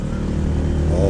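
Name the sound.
loud motorbike passing by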